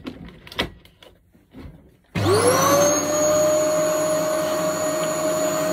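An old vacuum cleaner with no suction switches on after a few quiet knocks and handling sounds, then runs with a loud, steady motor drone and a rising whine that settles into a constant tone.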